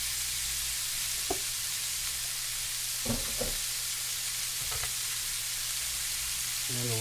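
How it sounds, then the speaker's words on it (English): Butter frying with vegetables in a home-kitchen pan for Cajun turkey pasta, a steady soft sizzle running throughout with a few brief utensil clinks and stirring knocks. "A little butter in the pan with the veggies."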